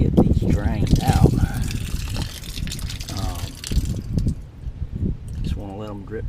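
Water drains from a camper's cold water lines with a steady trickle and splash, fairly close, over a busy background with some voice-like sound.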